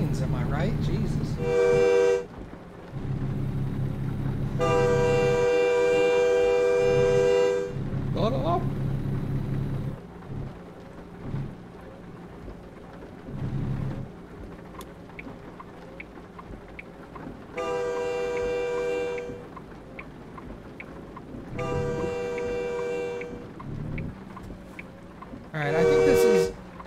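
Repeated long blasts of a locomotive horn in the trucking game American Truck Simulator, loud and close, sounding in uneven bursts over about half a minute, with quieter stretches of low road and engine rumble between them.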